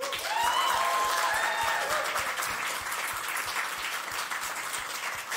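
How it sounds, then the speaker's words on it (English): An audience at a live debate gives sustained, loud applause, a dense wash of clapping that holds steady from start to finish, with a few whoops rising above it early on. "give them a big round of applause"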